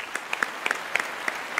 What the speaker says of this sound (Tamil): இந்த கைத்தட்டு தான் எங்களுக்கு மனசில் உள்ளே வந்து உட்காரும்